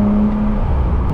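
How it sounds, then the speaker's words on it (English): Engine of a Pontiac G8X-style sedan with aftermarket intakes, a steady close-up drone with a faint turbo whir riding over it on a back road, no talking. "And then you hear the turbo."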